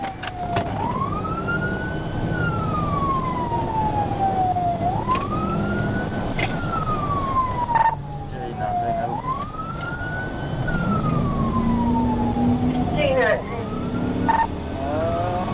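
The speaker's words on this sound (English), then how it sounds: "When the siren was activated" A police siren wails in long rising and falling sweeps during a motorcycle pursuit, repeating several times, with traffic noise and some voices beneath it.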